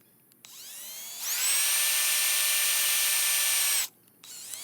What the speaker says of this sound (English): Now we got our pilot holes drilled into there.